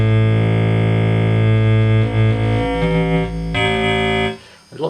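Sampler transwave swept with the modulation wheel, a buzzy harmonic-rich tone whose timbre shifts and morphs with pops and clicks, loud and alone before cutting off.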